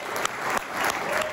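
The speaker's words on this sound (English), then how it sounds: "Let's give them a big round of applause." Loud, dense applause from a concert crowd at the Junction Center in Manheim, Pennsylvania, with a few sharper claps and cheers standing out.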